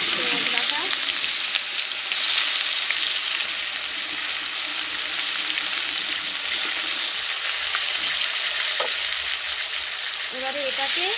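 Onion paste, with garlic and other ground spices, frying in hot oil with a bay leaf for village-style mutton kosha; a steady, loud sizzle runs throughout, with occasional scraping stirs and faint background voices.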